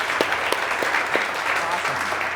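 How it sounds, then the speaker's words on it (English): Audience applause for a guest speaker at a startup networking event, steady dense clapping from a crowd filling the room, with a few louder individual claps standing out and faint voices underneath. "everybody kind of stand up and give a big round of applause to Nick for taking the time to be here."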